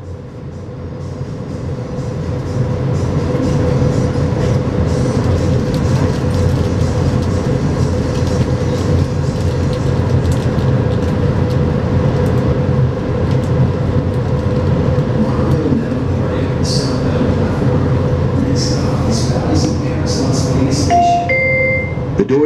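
Las Vegas Monorail train riding southbound, heard from inside the car as a steady loud rolling rumble and motor hum lasting throughout, with faint clicks and brief higher tones near the end.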